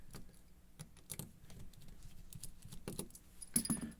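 A key jangles with light metallic clinks and a brighter rattle near the end while an ASSA Twin V10 Mogul cylinder lock is being taken apart, close and fairly quiet, with no speech.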